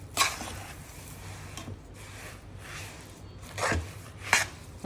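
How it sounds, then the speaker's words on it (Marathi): A spoon stirs a warm sesame and crushed peanut mixture for ladoo in a pan, producing scraping, rubbing strokes in a loose rhythm, with several sharper knocks standing out, close and moderately quiet. "आता छान हलवून घेऊया."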